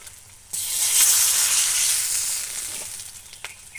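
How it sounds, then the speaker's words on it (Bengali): Parboiled cauliflower drops into hot oil in a pan, bursting into a loud, steady sizzle that holds for several seconds before easing slightly, with a few faint clicks near the end. "অল্প সিদ্ধ করে রেখেছিলাম কপিটা, এবার আমি ভেজে নেব।"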